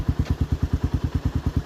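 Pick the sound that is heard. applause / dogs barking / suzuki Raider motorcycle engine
suzuki Raider motorcycle engine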